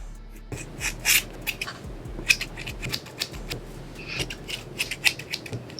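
Scissors snip through kinky straight human hair crochet extensions to shape them, a series of sharp close crisp cuts spaced irregularly with quieter rustling between.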